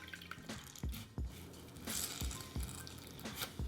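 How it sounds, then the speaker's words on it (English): A water-soaked makeup beauty blender sponge is squeezed out by hand, with soft squishes and drips of water falling in a quiet, irregular series. "I'm gonna squeeze all this water out"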